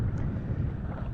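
Sailboat running downwind under sail on the Atlantic, a steady broadband rush of wind and water with microphone wind buffeting, continuous and fairly loud, no voices.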